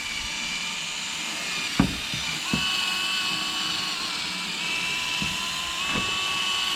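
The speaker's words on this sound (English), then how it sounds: "Sanding here will save you steps later on down the road." Sanding a headlight lens with a 3M restoration kit using a drill-driven sanding disc: a steady high whine runs throughout, with a few sharp knocks and pitch shifts as the tool presses and lifts.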